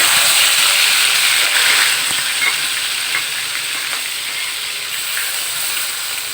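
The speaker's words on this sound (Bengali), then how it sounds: "এখানে পেঁয়াজ বাটা আর এখানে রসুন বাটা এটা দিয়ে দিচ্ছি তেলের ভিতর" Onion paste and garlic paste fry in hot oil with a loud, continuous sizzle and hiss that eases slightly as it goes on, with light stirring scrapes close by and no talk.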